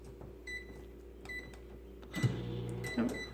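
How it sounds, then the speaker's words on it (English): A low steady hum of a microwave oven running, with a few short beeps and clicks near the end, quiet and close. "Microwave could use a little more cleaning on the top, but other than that, it's not bad and it does work."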